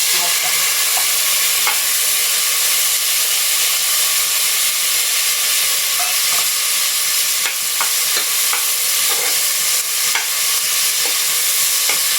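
Onions frying in a pan with cinnamon and cloves for pattani sadam, a steady close sizzle and hiss with occasional stirring scrapes, no voices.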